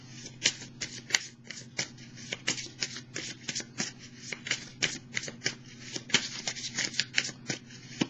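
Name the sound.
tarot cards being shuffled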